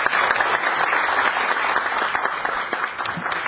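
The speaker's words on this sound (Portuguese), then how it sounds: "Então, gostaria, por favor, uma salva de palmas." Steady applause from the audience at a public hearing in a legislative assembly, dense continuous clapping at moderate distance, sustained for several seconds without speech.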